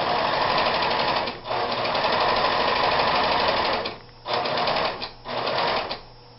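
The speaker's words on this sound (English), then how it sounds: "This is how you sew an inside corner using a serger." A serger stitches an inside corner of fabric in steady, rapid mechanical bursts, running nearly continuously with brief pauses and then short stop-start runs near the end, close and loud, with no talking.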